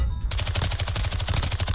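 An MX9 submachine gun fires in Call of Duty Modern Warfare 2: a rapid, evenly spaced burst of sharp shots that starts after a brief pause and runs loud and continuous to the end, with no talking.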